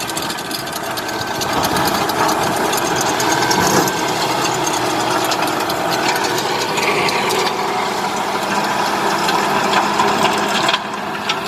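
A farm tractor runs in a field while machines shape raised beds and lay plastic mulch for vegetable planting, giving a loud, continuous mechanical drone with rattling, clanking parts, close by and without talk.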